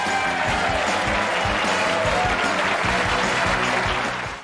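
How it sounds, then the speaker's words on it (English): Sitcom-style studio audience applause, a dense, steady wash of many hands clapping at close range that holds evenly, then cuts off abruptly at the end. "Cue that sitcom applause."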